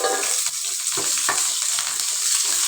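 Curry leaves drop into hot tempering oil with onions, giving a dense, continuous sizzle and crackle, close and loud, with a few stirring scrapes.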